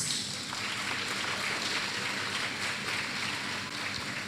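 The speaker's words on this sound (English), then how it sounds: "Let me see the children can clap their hands." Schoolchildren at a town hall meeting clap their hands together in a dense, continuous patter. The sound is sustained and fairly loud and carries no talk.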